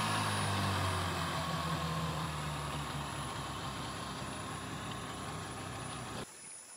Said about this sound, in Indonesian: Perbaiki mesin speed sebelum pulang.